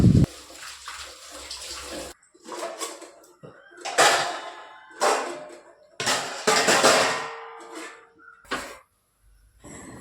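Dishes are washed under a running tap in a home kitchen, with repeated bursts of splashing water, clinking utensils and short pauses between rinses, close and fairly loud.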